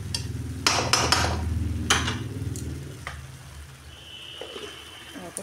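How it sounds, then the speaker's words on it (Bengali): Vegetables cooking in a pan are stirred with a spoon, giving a few sharp scraping knocks against the pan over a soft sizzle that fades to a quieter hiss toward the end. "আবার একটু নাড়ি চাড়িয়ে দেবো"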